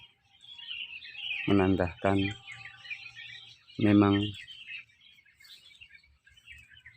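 Birds chirp in a public cemetery, faint and scattered high calls running steadily beneath someone speaking in the foreground.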